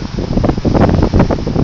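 Strong gusty wind buffeting the microphone on a causeway beach, a loud continuous roar rising and falling with no talking.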